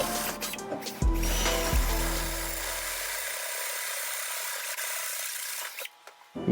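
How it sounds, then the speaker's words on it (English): A handheld drill bores bolt holes through an EGR delete plate for a Datsun 280ZX, a steady grinding whir with two sharp low thumps near the start before the motor winds down and stops at the end. "Now we're going to move on to a drill bit big enough for the EGR bolts to fit through."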